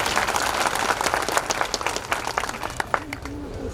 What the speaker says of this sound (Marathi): त्या टीमचं टाळ्या वाजवून आपण आभार व्यक्त करू